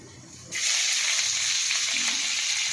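Onions dropped into a hot pan with tomatoes and salt for a greens dal, a sudden burst of loud, bright sizzling that holds steady and close to the end.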